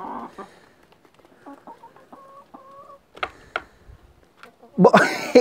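Chickens cluck close by in short, choppy bursts, with a louder squawk near the end; the setting is otherwise fairly quiet.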